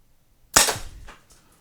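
A single sharp shot from a Tippmann TiPX paintball launcher pistol cracks out after a moment of silence, close and loud, with a brief decaying tail and no talking.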